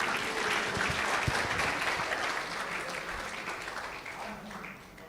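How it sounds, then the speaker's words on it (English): A church congregation breaks into loud, sustained applause and clapping at a sermon on relationships, holding strong for several seconds before tapering off near the end. "Clap for Bandu for me."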